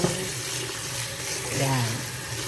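Raw meat being washed under a running kitchen tap, a steady close hiss and splash of flowing water that carries on throughout, with a faint voice briefly underneath.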